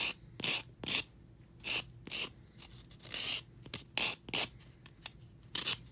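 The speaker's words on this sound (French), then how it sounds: "je vais passer un petit peu aussi avec la lime parce que lui aussi, il y a pas mal épais de vernis dessus" A nail file scrapes thick nail polish off a fingernail in repeated rhythmic rasping strokes, close and crisp, with short gaps between strokes and no talking.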